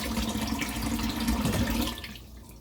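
Tap water runs steadily into a sink during handwashing in a kitchen, a close, continuous rush that cuts off abruptly after about two seconds, leaving a quiet room.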